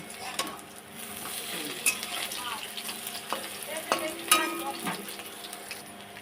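Gram-flour fritters of small river prawns frying in oil, a soft continuous sizzle with occasional clinks and scrapes of a utensil flipping them, fairly quiet and close, with no talking.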